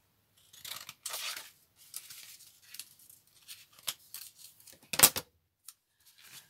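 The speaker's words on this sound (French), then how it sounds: "Je vais couper un petit bout comme ça." Scissors cut a small piece of cardboard while a 3D relief greeting card is being made, giving a series of close, crisp snips and rustles with short pauses between cuts and one sharper, louder snap near the end.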